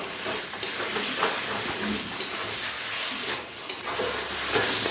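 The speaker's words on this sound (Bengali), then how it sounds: "এবারে এই বাঁধাকপি আর আলু এই মশলার সঙ্গে আবারও খুব ভালো করে কষিয়ে নিতে হবে।" Cabbage and potatoes being stir-fried with spices in a pan give a steady soft sizzle with scraping stirring strokes at intervals, close and moderately loud, with no talking.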